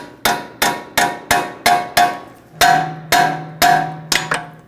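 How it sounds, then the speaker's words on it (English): Sharp metallic hammer taps ring out one after another, about ten strikes at a steady rhythm, close up and loud, with no talking, as a small hammer knocks an outer tie rod loose from the steering knuckle of a 2006-2009 Audi S4. "you can just use a little hammer, give it a tap"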